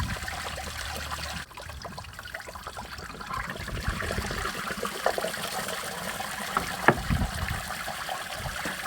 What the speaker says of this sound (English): it's probably going to pour out 5 gallons of antifreeze